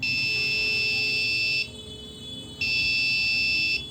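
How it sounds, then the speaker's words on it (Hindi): An electronic buzzer horn on a homemade smartphone-controlled RC robot car sounds in two long, steady, piercing tones, each lasting over a second, separated by a short gap, loud and close. "तो हमारा हार्न बज रहा है"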